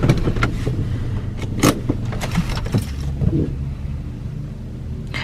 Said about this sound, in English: Just parking the car.